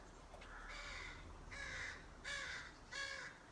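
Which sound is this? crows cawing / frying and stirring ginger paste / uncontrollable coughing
crows cawing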